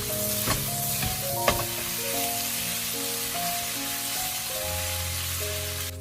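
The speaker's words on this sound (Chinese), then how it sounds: "然后把土豆片倒下来，紧接着开大火快速的翻炒均匀" Potato slices are tossed into a hot wok and stir-fried over high heat, a steady loud sizzle with a few sharp clacks of the spatula, with soft background music playing throughout.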